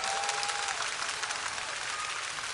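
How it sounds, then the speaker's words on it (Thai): A crowd at an outdoor Thai political rally on Akkhaphat Road breaks into sustained applause, dense steady clapping from many hands held at an even level for the whole stretch. "ปรบมือให้กับประชาชน14ตุลาคมครับ"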